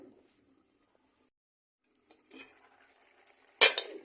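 A wok set on a home stove for fish curry lands with one sharp metallic clank near the end. Faint clinks of cookware come before it in an otherwise quiet kitchen.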